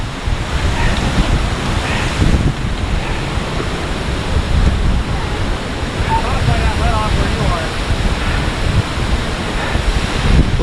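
Bonanza Falls in Bechler Canyon, Yellowstone, pours in a steady, full-bodied rush of falling water close by, beside a geothermal spring at its base, with a faint voice briefly audible beneath the constant roar.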